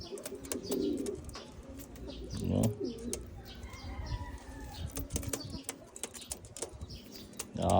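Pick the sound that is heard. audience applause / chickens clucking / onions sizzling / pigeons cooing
pigeons cooing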